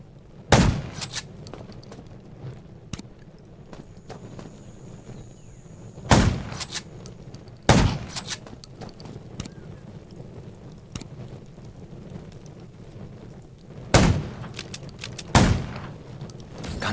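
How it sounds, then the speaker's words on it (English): Loud, sharp gunshots ring out in the zombie survival video game Garena Undawn, a handful of single reports spaced several seconds apart over a low rumbling game ambience, with no talking. "Gunshot."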